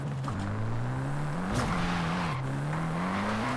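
Car drifting through corners in Forza Horizon 5, played with a steering wheel: a steady, loud tire squeal wavers in pitch and dips mid-turn under a constant engine drone, with no one speaking.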